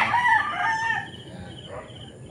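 Chickens on a Philippine backyard flock at feeding time cluck and call close by, with a rooster-like crowing phrase loud at the start and fading into softer clucks, no talk over it.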